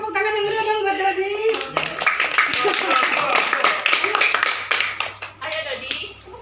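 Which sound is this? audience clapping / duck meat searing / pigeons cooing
audience clapping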